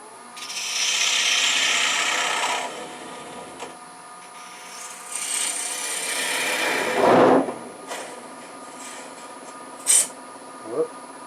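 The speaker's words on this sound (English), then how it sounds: "I'm going to just remove that little nub I had here and chamfer it down" A turning tool chamfers a small nub on a rough-turned Bradford pear wood cremation urn, giving a loud dry scraping rasp for about two seconds, then shorter scraping passes and a few light knocks.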